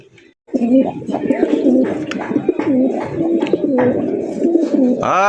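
Pigeons at a busy pigeon market coo steadily in overlapping, throaty calls, close and loud, with a few chirps and faint human voices in the background.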